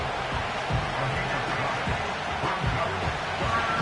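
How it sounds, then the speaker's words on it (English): Crowd noise from the Madden 25 American football video game forms a steady, dense stadium roar, moderately loud throughout with low rumbles beneath. "Crowd noise rises."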